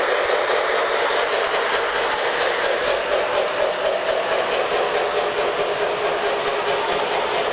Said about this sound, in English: what I'm waiting for, of course, is the train to come careening down